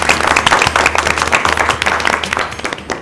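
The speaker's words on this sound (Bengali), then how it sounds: "টিম বি আরো জোরে হাততালি" A college quiz and game show audience in Chandannagar claps for a team, a dense, lively patter of many hands ringing out continuously and fairly close.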